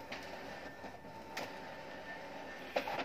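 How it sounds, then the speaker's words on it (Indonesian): An Epson M2140 printer runs an automatic duplex print job, producing a quiet, steady mechanical whir with a few soft clunks and sliding paper-feed noises, heard alone at low level. "Dan printer ini tuh sudah auto duplex, jadi dia bisa nyetak bolak-balik secara otomatis ya."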